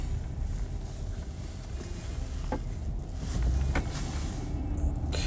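Car cruising slowly along residential streets, with a steady low road rumble and wind buffeting the microphone, engine noise rising slightly toward the end.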